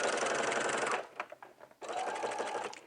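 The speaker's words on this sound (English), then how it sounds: "And then I will backstitch when I can't go any further." Sewing machine stitching a jumpsuit seam, running in a steady loud burst, pausing briefly with a few clicks, then running again for the backstitch.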